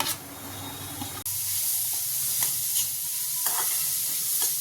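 Chopped carrot and cabbage sizzle loudly in hot oil, a steady frying hiss that jumps up at the start, with a few soft scrapes of stirring scattered through.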